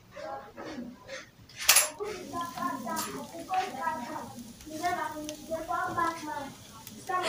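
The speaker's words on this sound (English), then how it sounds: "Then I'm going to stir again. I'm going to stir this." A metal spoon stirring native Nigerian jollof rice with boiled egg in a pot, scraping and clinking against the pot sides while a person talks throughout.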